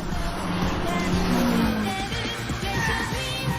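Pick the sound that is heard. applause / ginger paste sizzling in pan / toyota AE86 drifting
toyota AE86 drifting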